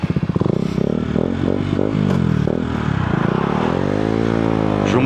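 A KTM Duke motorcycle engine revs hard nearby, its loud buzzing note climbing and falling in several quick throttle blips before a longer sweeping rev.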